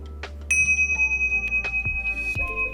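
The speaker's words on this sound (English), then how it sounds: "Show me what your meditation bells sound like." Meditation bells struck several times, bright sustained ringing tones overlapping and decaying, close and clear in a quiet room.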